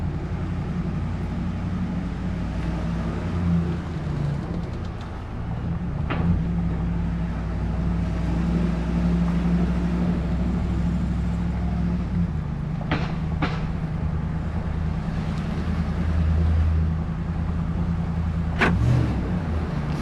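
A truck with an exhaust leak rolls slowly past a row of garages, its rough engine rumble steady and echoing, with a few brief sharp knocks over the continuous drone and no talking.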